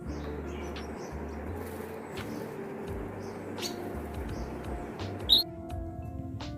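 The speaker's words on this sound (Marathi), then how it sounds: "हे अँग्री बर्ड्स समूहासमूहाने येत असतात आणि आवाजही भरपूर करत असतात" A flock of birds calling near water, heard as scattered faint chirps over a steady low background hum, with one sharper, louder call standing out near the end.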